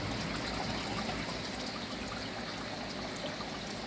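Water trickles steadily along a small creek in an indoor ecosystem garden, a soft continuous babble at low level with no other sounds over it.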